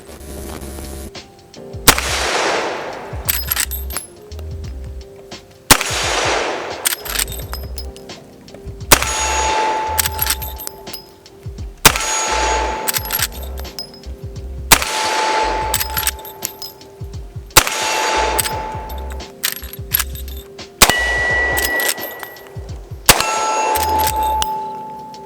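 A Henry .45 Colt Mare's Leg fires outdoors at steel targets, eight loud gunshots spaced a few seconds apart, each followed by a ringing metallic clang from the steel, with lever-action clatter between shots.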